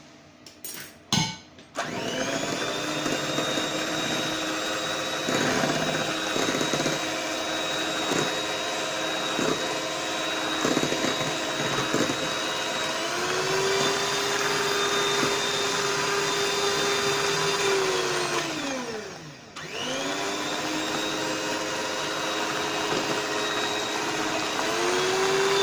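An electric mixer beats milk and oil together with a loud, steady motorized whir that runs almost throughout. Its pitch sags and recovers twice, and it cuts out briefly near the end before starting again.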